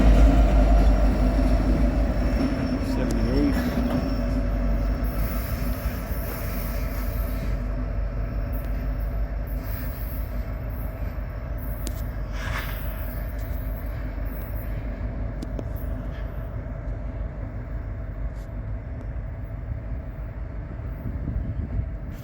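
A westbound manifest freight train passes at Ashland, Nebraska, with a steady loud rumble of wheels and rail cars rolling by nearby, occasional squeals, and the roar gradually easing over the stretch, with no talking.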